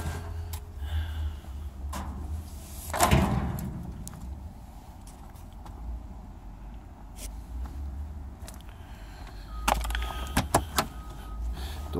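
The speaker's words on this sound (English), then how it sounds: "Doors open really nice though." The door of a 1972 Mercedes-Benz 220D diesel sedan unlatches with a solid clunk and swings open, followed later by a few lighter clicks and knocks against a steady background hiss.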